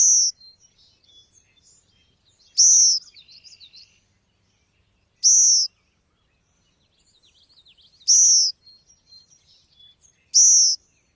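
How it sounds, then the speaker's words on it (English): High, thin song sparrow begging calls repeat in short insistent bursts about every two to three seconds, with softer twittering in between, fairly close and clear. "begging call from a song sparrow."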